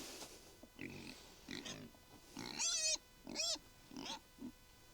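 Pigs on a farm grunt and squeal in short, irregular bursts, some sharp and high-pitched, at close range with gaps of quiet between calls.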